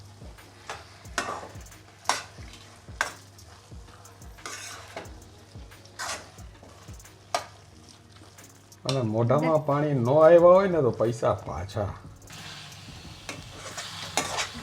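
Carrot and beetroot halwa stirred in ghee in a kadai, with a steady run of light ticking scrapes from the spoon. Midway, louder frying and a voice take over.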